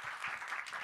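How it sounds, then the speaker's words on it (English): A brief burst of applause, a soft, distant patter of many hands clapping at once. "Big round of applause for Dr. Sudeep Gupta."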